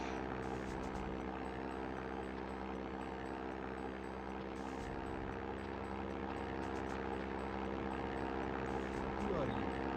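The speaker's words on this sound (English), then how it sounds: "There's the plane." An airplane in a GoldenEye-style James Bond video game drones steadily with a humming engine tone, fairly faint and constant throughout with no pauses.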